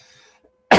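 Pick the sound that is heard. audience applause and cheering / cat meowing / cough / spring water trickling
cough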